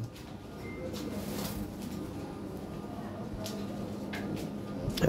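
Lahori pigeons, a European breed, coo in low, repeated murmurs against a soft background hum, the calls overlapping steadily and fairly quiet.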